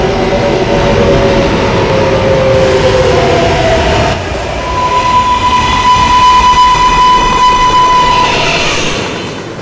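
An R143 subway train on a local run rumbles steadily and loudly throughout, with a sustained tonal whine rising and holding over the rolling rail noise.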